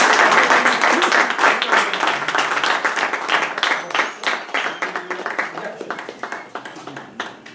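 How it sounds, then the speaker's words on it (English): Toastmasters club members applaud to welcome a General Evaluator, a full round of clapping from a room of people that starts strong, then thins into scattered claps and fades toward the end. "please put your hands together in a loud applause"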